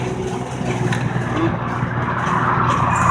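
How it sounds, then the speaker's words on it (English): Cars speed along Hollywood Road near Big Lake, Alaska, heard as a loud continuous whoosh of passing traffic and tire roar close by, swelling slightly toward the end. "cars are ripping up and down the road"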